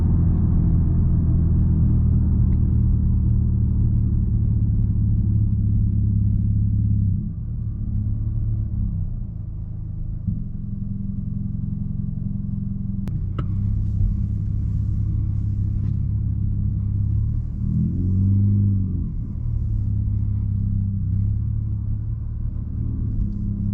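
A 2020 Nissan Altima with a straight-piped exhaust drives along, its deep engine drone and road rumble continuous and loud, with a slight dip and recovery as the revs shift partway through.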